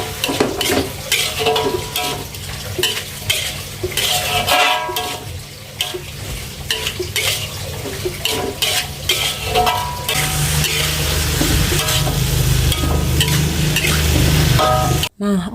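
Green beans stir-fried in a pan at a small food stall: a steady sizzle with scraping spatula strokes, growing louder and fuller about two-thirds of the way through, then stopping abruptly at the end.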